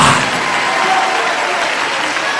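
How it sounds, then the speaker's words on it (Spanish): A Spanish-speaking church congregation applauds Jesus Christ during a testimony service, a loud, continuous wash of clapping that stays steady throughout. "Dale un aplauso a Jesucristo como que fuera el último aplauso de tu vida"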